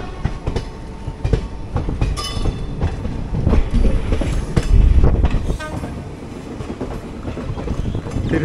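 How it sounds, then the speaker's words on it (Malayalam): An LHB coach rake being shunted in a station yard, with a continuous rumbling, clanking roll of rail cars and scattered metallic clicks and squeals, fairly loud and steady throughout, with no voices. "ഏതൊരു റേക്കിൻ്റെ ഷണ്ടിങ് ആണ്."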